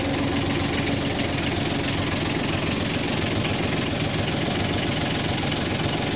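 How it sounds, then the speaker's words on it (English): A sailboat's inboard engine idles steadily as a dense, even mechanical drone with a knocking rumble, close and constant, with no voices. "Engine sounds sweet."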